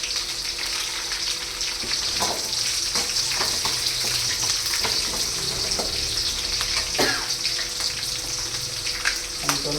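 Green chillies fry in hot oil for a cauliflower gravy, giving a steady loud sizzle dotted with sharp crackles and pops as they splutter in the pan.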